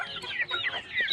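A hen clucks in a short burst of a few quick, close, chattering calls.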